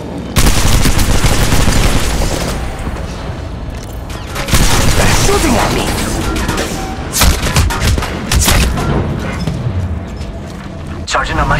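Gunfire in the mobile game Apex Legends Mobile, loud, close automatic bursts and heavy booming shots in dense clusters that pause briefly and then resume, with a voice calling out over the shooting.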